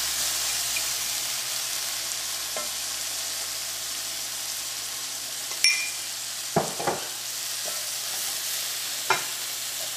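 Tomato and cumin powder frying in a pan for potato-brinjal curry, a steady close sizzle throughout with a few soft clinks and scrapes of stirring.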